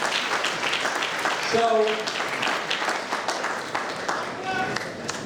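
Audience applause for an assemblyman at a congressional campaign kickoff event, a steady wash of clapping running throughout with a speaking voice over it.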